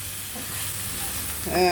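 Cleaned large prawns sizzle and fry in biriyani masala in a pan, a steady close hiss with a brief stirring clatter near the end.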